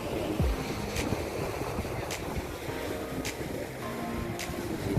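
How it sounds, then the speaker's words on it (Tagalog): Strong wind blowing across a white sand beach on the Arabian Sea, a continuous broadband rush with surf beneath it and a few faint brief gusts or buffets on the microphone. "Lakas po ng hangin."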